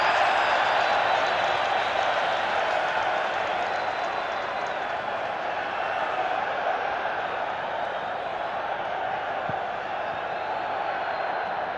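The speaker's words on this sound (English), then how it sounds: "That's the Mexican wave, and there's great cheering in the stadium." Stadium crowd roaring and cheering as a Mexican wave rolls around the ground at the 1995 Rugby World Cup third-place match between France and England, a dense, sustained wall of crowd noise throughout.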